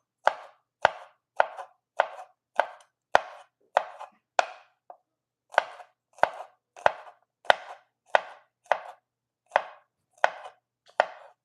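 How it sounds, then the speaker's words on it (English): A knife chops garlic finely on a cutting board in a home kitchen, with about twenty sharp, evenly spaced chops heard up close and alone, pausing briefly partway through. "So now I'm gonna cut the garlic really small."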